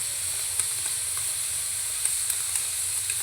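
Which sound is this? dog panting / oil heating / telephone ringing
oil heating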